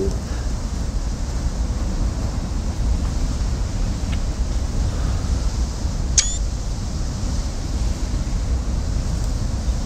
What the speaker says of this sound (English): That is a waterfall from hell.